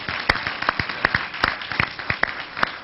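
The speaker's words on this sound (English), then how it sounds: "We'd like to give you a round of applause for dropping that knowledge on us today." Sparse, distinct hand claps ring out one after another in an irregular rhythm at a college gathering, a handful of individual claps rather than a full ovation, with a hushed room around them.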